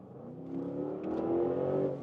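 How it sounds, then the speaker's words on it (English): Audi RS Q8 accelerating in comfort mode, engine note rising gradually from a low drone into a louder, swelling rev, heard from inside the car without talk. "when I'm then suddenly on the gas, the vehicle takes a while"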